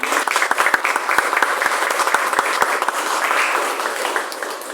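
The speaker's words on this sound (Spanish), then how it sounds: "un aplauso para el compañero que no pudo venir" Audience applause at a fantasy anthology presentation in a municipal library, dense steady clapping from a crowd with a few sharper nearby claps standing out, sustained throughout at a fairly loud level.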